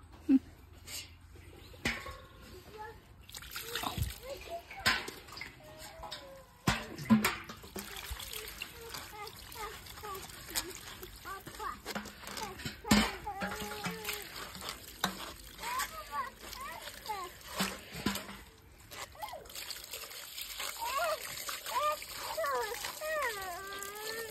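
Small fish being washed by hand in water, with trickling, splashing and stirring sounds that come and go under voices talking nearby.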